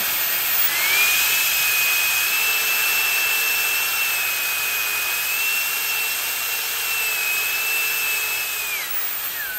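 A high-speed 130,000 rpm jet fan with metal and plastic parts runs at its third speed setting, giving a loud, continuous close whine with a steady high tone that wavers slightly before dipping at the end.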